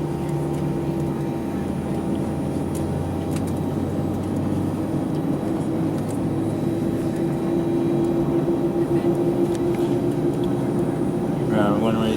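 An airliner taxiing onto the runway at Charlotte airport, heard from inside the cabin as a steady low engine drone and rumble, with a rising tone near the end and talk over it.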